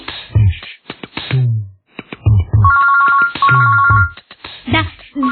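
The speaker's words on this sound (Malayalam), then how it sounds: "ഫോൺ ബെല്ലടിക്കുന്നു" A cartoon telephone rings with a repeated electronic ringtone in short bursts, mixed with animated voices talking over it.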